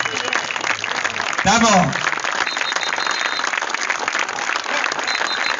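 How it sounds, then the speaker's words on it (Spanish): An audience at a political rally applauds a man on a standing ovation: steady, thick clapping continues throughout while a man briefly calls out over it. "De pie para aplaudir a este tipo."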